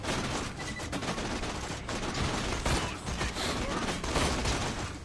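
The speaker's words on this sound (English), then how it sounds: "here's a crazy sniper rifle with ludicrous amounts of range" Gunfire from the first-person shooter Borderlands 2 as a long-range sniper rifle fires at a turret, dense loud bursts of shots and impacts throughout the game's busy combat soundscape.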